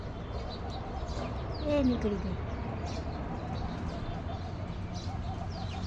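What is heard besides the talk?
sparrows chirping at a feeding spot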